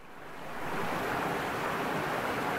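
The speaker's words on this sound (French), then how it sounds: "ma chère Alexandra, j'ai trouvé le point haut de cette cascade qu'on voit en bas arriver dans la Meuse à Lesfours" Rushing water of a waterfall pouring down into the Meuse river near Lesfours on a snowy hike, a steady broadband roar that swells in over the first second and then holds constant, no voices.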